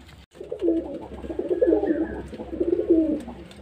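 Domestic pigeons cooing inside a cage at a home loft, a soft, continuous rolling coo close to the microphone with no talk.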